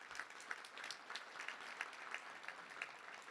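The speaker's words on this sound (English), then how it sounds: "Let's give a round of applause to them." An audience at a Little Rock touchdown club luncheon claps in a steady, moderate round of applause heard from a distance, with no voices over it.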